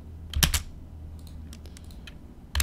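Mouse clicks and computer keyboard key presses while drawing in AutoCAD, with a cluster of crisp taps near the start, scattered lighter clicks in the middle, and another firm press at the end.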